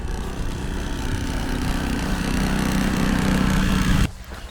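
A Dnipro-M petrol generator engine runs with a steady, fairly loud drone and low hum for about four seconds, then cuts off abruptly into near silence.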